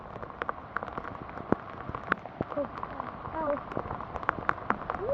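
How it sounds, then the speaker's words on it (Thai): Heavy rain falls steadily, a dense close patter of drops striking surfaces outdoors, with brief voices and a few sharper taps mixed in. "ฝนคงไม่หยุดตกนะครับ"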